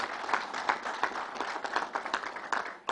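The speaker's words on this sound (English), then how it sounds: "Let's give Matty a round of applause." Audience applause at a New York Islanders arena announcement, a steady wash of many hands clapping close and dense, with sharp individual claps popping through for the full stretch.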